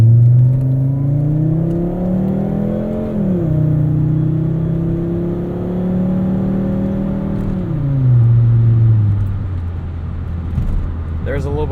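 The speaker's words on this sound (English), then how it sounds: "Listen to that 5-cylinder wail away." A Volvo 850 R with a five-cylinder engine and a manual gearbox pulls hard from inside the cabin, its droning note climbing through two long rises with a gear change between them, while someone talks over it.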